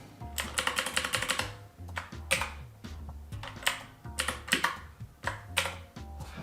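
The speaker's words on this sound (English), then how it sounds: "You can get a great mechanical keyboard on a budget" Rapid bursts of typing on a cheap budget mechanical keyboard, about an eight-dollar model, with clacky keystrokes in quick runs and short pauses, close and fairly loud with no talking.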